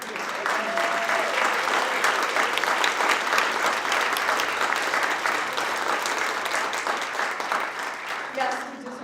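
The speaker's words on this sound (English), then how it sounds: "I'd like a round of applause for Mayor Curtis." Sustained applause from a large audience fills the room, steady and dense throughout, with some cheering mixed in.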